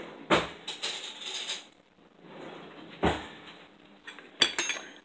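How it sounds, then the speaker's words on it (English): A fork mashes food in a dish, giving scraping and clinking bursts of metal against dishware, close and moderately loud, separated by quieter pauses. "So I'm just mashing them a little bit more with my fork."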